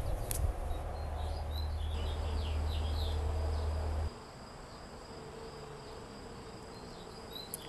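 Steady insect buzzing fills the air, a dense hum of honey bees close by around a hive with honey supers, with a low droning layer that cuts out partway through.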